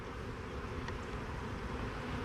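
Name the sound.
bees buzzing at a beehive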